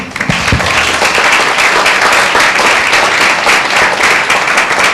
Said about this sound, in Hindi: क्या उस परमेश्वर प्रभु यीशु मसीह को जोरदार ताली दें?